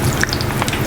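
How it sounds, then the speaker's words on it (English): Aubergines frying in a fryer in a restaurant kitchen, a steady crackling sizzle with fine popping bubbles, close and continuous throughout. "And we fry them like this."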